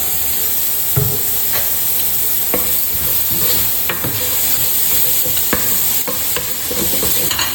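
Vegetables fry and sizzle in olive oil in a pan, a steady loud hiss close by, broken by the clicks and scrapes of stirring.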